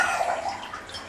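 Water being poured into a nappy, a short soft splashing trickle nearby that fades slightly, with no voices.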